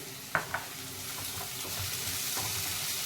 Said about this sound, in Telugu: చక్కగా ఫ్రై చేయాలి. కొంచెం మెత్తబడితే చాలు టమాటో.